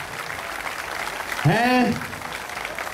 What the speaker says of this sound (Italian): bello forte l'applauso